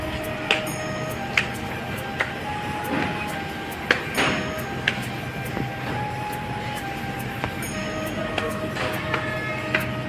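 Trains standing at Suratgarh railway station, including an electric train, with a steady low rumble and idling hum and scattered sharp metallic clanks and knocks recurring every second or so, moderately near.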